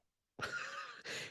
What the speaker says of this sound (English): Oh, I'm burping now.